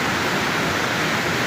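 Phutphute waterfall on the mountain trail to North Annapurna base camp, a steady broadband rushing roar, close and loud, with no breaks and no voices.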